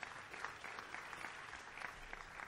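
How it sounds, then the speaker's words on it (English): Applause from an audience at a dedication ceremony for a campus sciences building and landscape project, steady and fairly soft, a crowd clapping continuously for a couple of seconds. "Give them all a round of applause."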